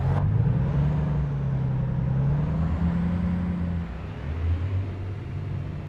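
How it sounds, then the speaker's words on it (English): A six-gear truck engine in a truck-driving video game hums steadily with a smooth low drone, shifting pitch partway through, with no talking. "Sounds like a car."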